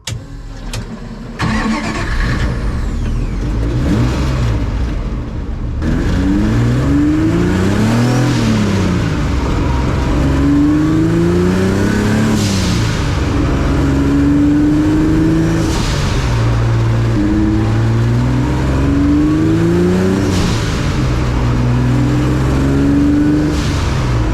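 Modified Mazda MX3 engine revving loud and close, with repeated rising and falling blips of the throttle over a steady idle for the whole stretch, starting just after a brief gap at the beginning.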